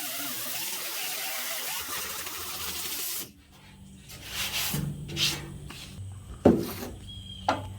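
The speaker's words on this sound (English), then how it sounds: "So I can just basically get it kind of sanded right up in here" Hand sanding on the body work of a 1966 Ford Bronco under restoration: a few seconds of steady rubbing noise, then sparse, uneven scuffs and light knocks up close, with no talking.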